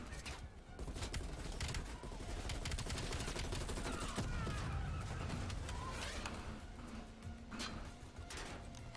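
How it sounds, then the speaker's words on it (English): Gunfire in Call of Duty: Black Ops Cold War, dense and steady as bursts of automatic shots crackle almost without pause, somewhat distant and low in level, with impacts mixed in. "I'm getting shot from behind."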